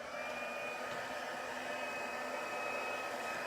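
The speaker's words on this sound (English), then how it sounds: "So you'll hear my heat gun here for a second." A heat gun heat-setting ink on a buffalo plaid black bear craft project, a steady whirring blower hum with a faint high whine, continuous and even, with no talking.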